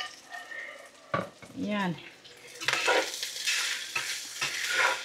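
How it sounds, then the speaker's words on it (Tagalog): Rice is stir-fried with garlic in a large casserole pot, with a steady sizzle and a scraping stir rising and falling near at hand as a voice speaks briefly over it. "lagyan na natin yung kanin kasi pag nasunog yung bawang, hindi masarap"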